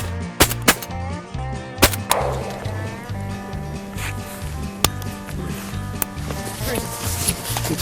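Shotgun blasts while duck hunting on the Texas coast, several sharp loud reports spaced irregularly over a few seconds, with people talking in the background.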